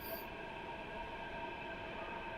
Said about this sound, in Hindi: मेट्रो आने वाली है 4 मिनट में,